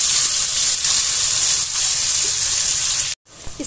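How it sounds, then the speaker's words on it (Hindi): Chopped onions sizzling and frying steadily in hot oil with panch phoron in a home kitchen pan, a loud, continuous hiss that breaks off briefly near the end before resuming. "अब हम इसमें 5 बड़े साइज में प्याज ले लिया था। अब इसको गोल्डन ब्राउन होने तक भून लेंगे।"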